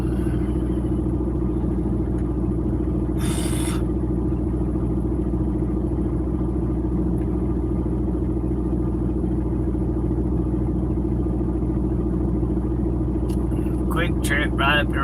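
A big truck's diesel engine idling at a truck stop, a loud, steady low rumble throughout with a short hiss burst early and some clatter near the end.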